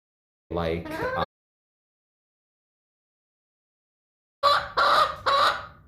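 An onagadori hen, an endangered long-tailed chicken breed, calls in two short bursts separated by silence. The first burst is a brief vocal note and the second is a set of three quick clucks, close and clear.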